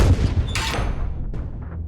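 Heavy naval guns on a destroyer blast at a U-boat in a World War II naval game, with one deep, loud boom rolling out near the start and a thinner second report following, all under a steady low rumble.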